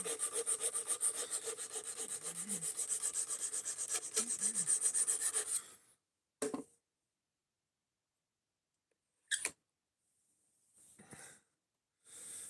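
A knife blade is drawn repeatedly along the stone of a guided sharpening system in rhythmic rasping strokes for several seconds, followed by silence and a few brief scraping touches, close by.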